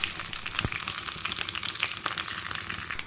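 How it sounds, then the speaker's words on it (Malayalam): Mustard seeds, dried red chillies and curry leaves sizzle steadily in hot oil for a Kerala beetroot pachadi tempering, a dense close crackle with scattered sharp pops and no voices. "കടുക് പൊട്ടി തുടങ്ങുമ്പോൾ അതിലേക്ക് 3 വറ്റൽമുളകും 2 തണ്ട് കറിവേപ്പിലയും ചേർത്ത് കൊടുക്കാം"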